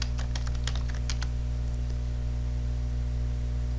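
A short burst of keystrokes on a computer keyboard clicks close up over a steady electrical hum, roughly a dozen taps in the first second and a half, then only the hum remains.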